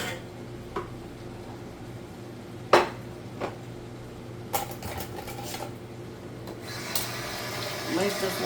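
A spoon is rinsed under a running kitchen tap, with a steady low water hiss and a few sharp metallic clinks against the sink, ending in a rising splash.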